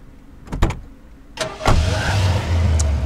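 A lawyer's car in Hotline Miami: a few sharp clicks and thumps, then the engine turns over and settles into a steady low idle close by.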